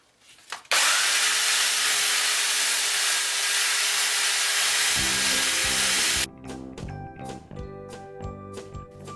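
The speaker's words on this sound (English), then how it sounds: "Sand it back either by hand or using the power tool of your choice." A loud, steady broadband power sander whirs continuously for several seconds on a rusty metal vehicle chassis, then cuts out and gives way to rhythmic clattering, tapping and a humming motor.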